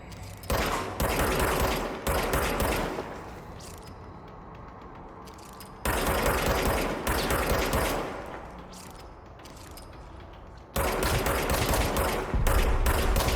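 Gunfire from a service weapon revolver in the video game Control comes in three loud, dense bursts, each followed by a decaying tail, with mechanical clatter between them.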